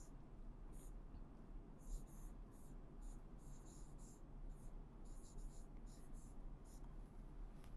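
Marker or chalk writing on a board during a Hindi grammar lesson, faint scratchy strokes in short repeated bursts over low room hum, with no talk.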